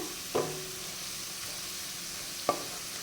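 Garlic sautés in a pan for tomato pickle, a steady soft sizzle of oil with two sharp spoon scrapes as it is stirred, close and without talk.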